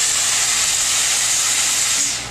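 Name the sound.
Therma Steem 1.5 steam cleaner releasing steam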